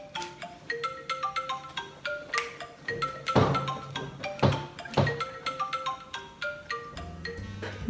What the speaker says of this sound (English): It's a ringtone.